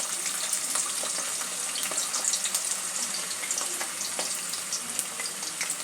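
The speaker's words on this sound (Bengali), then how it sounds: "প্রথমে আলুগুলো ভেজে নিচ্ছি।" Large potato chunks frying in hot oil for a cauliflower curry, giving a dense, continuous, close-up hiss of sizzling with fine crackles and no voices.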